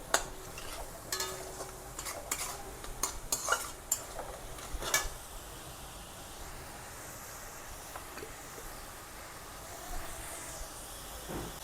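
Spoon stirring soybean and potato curry with salt, turmeric and coriander powder in a pan, giving scraping, clattering strokes that come thick and loud early, then thin out over a quieter sizzling background.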